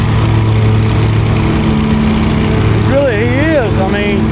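A lawn mower engine drones steadily nearby, a constant mid-low hum without letup, while a voice briefly speaks over the engine noise near the end.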